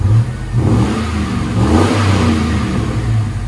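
A deep, throaty 5.3 V8 engine in a Chevy Tahoe/GMC Yukon with a 14-inch Magnaflow muffler revs up and settles back, rumbling loudly up close with a low, smooth exhaust tone.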